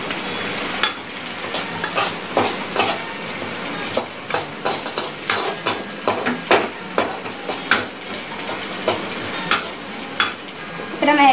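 Masala noodles with beans stir-fried in a pan: a continuous sizzle with repeated scraping strokes of a spoon or spatula against the pan, steady and close, with no voices.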